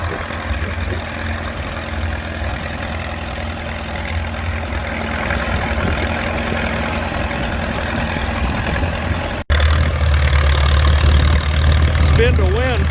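An antique Case DC tractor engine chugs steadily at a plow day in Mercer County, a loud continuous rumble over outdoor wind noise, with people talking nearby.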